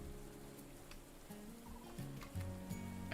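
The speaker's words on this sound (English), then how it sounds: "I heard another bird, a different kind of bird." Bird calls in the Morels: The Hunt 2 video game during a rainy forest scene: low, warbling, gobble-like calls repeat in short bursts over a steady wet hiss, growing slightly louder toward the end.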